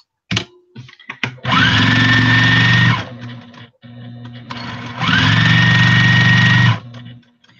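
A sewing machine stitches a baby rag quilt in two loud, steady runs of whirring motor sound, each revving up then stopping, with quieter clicks and handling noise between them.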